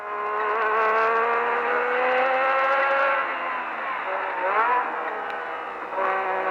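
A Formula 1 car engine heard from an onboard camera, a loud high-pitched whine rising steadily as it accelerates, dipping briefly on gear changes before climbing again.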